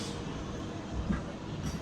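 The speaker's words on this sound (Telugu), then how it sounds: "మన ట్రైన్ బయలుదేరిపోయింది" A MEMU passenger train runs along the Nandyal–Guntur line between Chikatiganapalem and Vinukonda, giving a steady, dense low rumble and rolling wheel noise heard from on board, with no talk.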